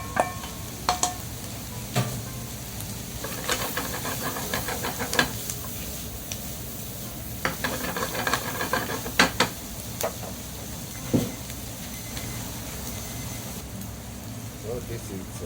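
Baby scallops sizzle in a pan with butter and soy sauce, giving a soft steady crackle under scattered scrapes and clicks of stirring, fairly quiet and close, with a voice speaking briefly.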